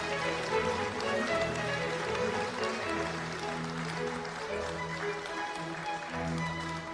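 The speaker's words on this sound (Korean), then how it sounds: "여러분 큰 박수 부탁드립니다" An audience at a peace talk event applauds, a continuous diffuse patter of clapping that stays steady throughout, with sustained musical tones playing underneath.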